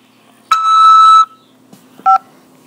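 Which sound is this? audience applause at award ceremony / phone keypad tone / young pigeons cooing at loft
phone keypad tone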